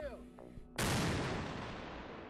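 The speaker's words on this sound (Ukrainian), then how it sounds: "Воїни швидко готують міномет, наводять на ціль і відправляють окупантам вибуховий привіт." A single sharp, booming blast as a mortar fires close by, followed by a long decaying rumble; faint sounds come just before.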